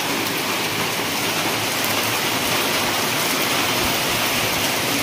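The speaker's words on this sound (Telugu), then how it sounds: "రండి మీకు చూపిస్తాను క్లైమేట్ అనేది ఎలాగుంది. ఇలా వర్షం పడుతూనే" Heavy rain pours down in Vizag with a dense, unbroken hiss of drops on surfaces, steady and loud throughout with no voices.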